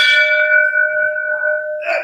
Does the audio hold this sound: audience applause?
no